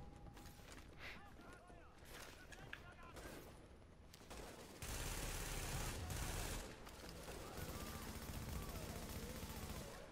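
Rapid gunfire from an M4 rifle in The Division video game, dense bursts of shots with mechanical clatter running throughout, growing louder and heavier midway, with a person talking over it.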